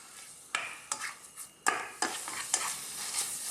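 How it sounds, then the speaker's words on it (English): Egg being cooked into Thai pork fried rice in a pan, stirred constantly: repeated scraping spatula strokes at an uneven rhythm over a steady low sizzle, close by, with no talking. "And we're just going to cook this egg into here for about, again, 60 seconds"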